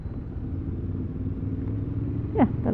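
Engine of a 2023 Honda CB750 Hornet motorcycle, ridden in rain mode, pulling in third gear, a steady low drone that swells briefly near the end with a short rising note.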